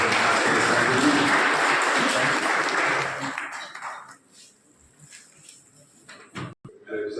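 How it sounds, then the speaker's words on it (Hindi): Brief burst of audience applause at a ceremony honouring a district collector, full clapping for about three seconds and then fading out to near quiet, with a few scattered knocks afterwards. "एक बार जोरदार तालियां बजाकर"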